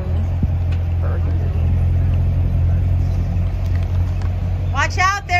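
A Long Beach Red Corvette's engine holds a steady, deep rumble as it drives, with voices audible over it and a brief rising whine near the end.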